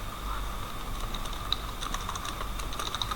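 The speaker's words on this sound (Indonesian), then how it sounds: "ini contohnya Bapak ketik" Steady typing on a computer keyboard while entering a banner design in Illustrator, with rapid, even key clicks continuing throughout over a faint background hum.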